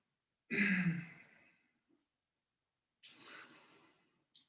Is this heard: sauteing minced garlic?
no